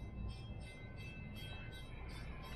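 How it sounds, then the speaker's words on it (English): A train rumbles past a truck stop in Alabama at a moderate distance, its wheels producing a steady rhythmic clatter over a low, continuous roar. "train coming, train coming"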